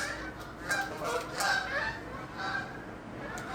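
A few geese honking out in nature, faint and distant, with scattered calls over a quiet outdoor background.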